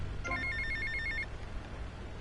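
A payphone rings in GTA Vice City with a brief electronic trill of a few rapid bursts lasting about a second over a low game background hum, then it falls quiet.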